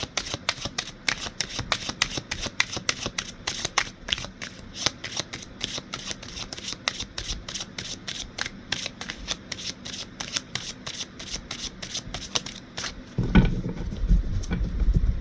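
Tarot cards are shuffled continuously, a fast, crisp run of riffling flicks held at close range for about thirteen seconds before ending with a few soft handling sounds.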